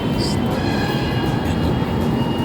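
Manila MRT metro station with a train passing, giving a loud steady rumble and roar that fills the whole stretch alongside station bustle.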